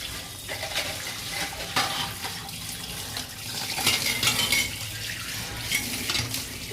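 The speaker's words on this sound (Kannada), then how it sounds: "ಇದನ್ನು ಜಸ್ಟ್ ಈ ಥರ ಆದಮೇಲೆ ನಾವು ನೀರು ಹಾಕಿ ವಾಶ್ ಮಾಡ್ಕೊಬೋದು" Water runs and splashes while polished silver utensils are rinsed by hand, a soft, continuous trickle with faint clinks and scrubbing movements, no talking.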